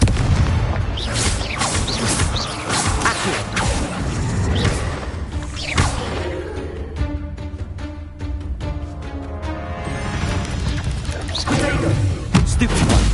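Confringo fire-blast spells in the Hogwarts Legacy video game, a dense run of loud booming blasts and crashing impacts layered over continuous busy game sound, with no pause between hits.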